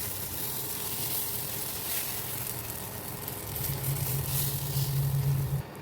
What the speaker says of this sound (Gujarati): તો ગેસ પર આપણે તવો મૂક્યો છે ગરમ કરવા માટે. એમાં થોડું તેલ નાખ્યું છે. તેલ ગરમ થયા બાદ આપણે એમાં સારી રીતે ફ્રાય કરી દઈએ.